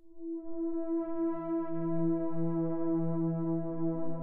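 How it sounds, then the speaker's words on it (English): A lo-fi pad patch built in U-he Zebra plays a sustained, harmonically rich chord with a steady low note entering after a second, holding evenly with no voices. "So that gives us this really kind of unique lo-fi sound to it"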